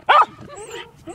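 A dog lets out one loud, short bark or yip up close, followed by softer whimpering vocal sounds.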